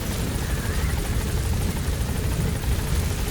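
Support helicopter arriving in the video game Metal Gear Solid V: The Phantom Pain, a loud, steady rotor thrum with a rumbling engine roar, close and continuous throughout.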